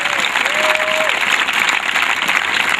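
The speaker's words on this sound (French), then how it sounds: "On peut acclamer très fort le Seigneur. Acclame-le très très très très fort." A crowd at an evangelism crusade in Yamoussoukro, Côte d'Ivoire, applauds loudly and steadily, with a sustained wash of clapping and a short whistle-like tone near the start.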